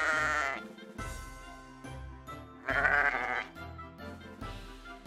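Sheep in a field bleating repeatedly, several loud wavering calls at close range with short pauses between, and no talk.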